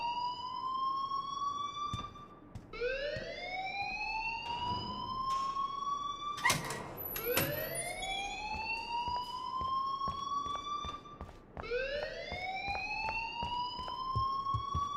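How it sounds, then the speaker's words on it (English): In the video game Life is Strange, a fire alarm wails in repeated rising electronic sweeps every few seconds, loud and persistent, with occasional sharp clicks and thuds between the sweeps. "please turn off that alarm since that's your job"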